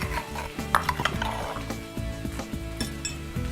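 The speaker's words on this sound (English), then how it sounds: "the reason this is called pat cha is because of the sound it makes when it hits the wok" Prawns hitting a hot, smoking wok for Thai pat cha rice noodles, giving a loud close sizzle with clinking pan and utensil knocks as they are stirred, no talking.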